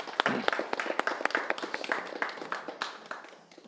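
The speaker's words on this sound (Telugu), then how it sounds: "ఒకసారి గట్టిగా క్లాప్స్ కొట్టాలి" Audience clapping at a meditation gathering at a pyramid venue, sounding as a fairly sparse, uneven patter of claps that fades slightly toward the end.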